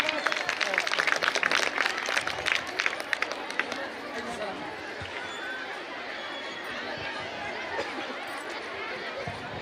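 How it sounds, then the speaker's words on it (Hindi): Crowd applause greets guests at a public gathering, louder and denser at first, then settling into a steadier, softer mix of clapping and murmuring chatter. "एक बार जोरदार तालियों से स्वागत।"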